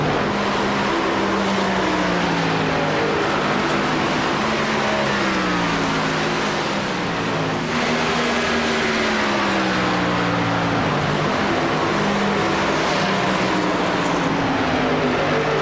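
NASCAR Xfinity Series race cars lapping at Atlanta, a loud, continuous roar of engines with pitch rising and falling as cars pass, packed closely with no clear voices.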